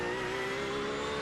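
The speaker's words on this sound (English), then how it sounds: "there's a faster car approaching" A GT3 race car in the iRacing sim at Donington holds a steady, sustained engine drone with a clear tonal whine, loud and constant throughout with no talk.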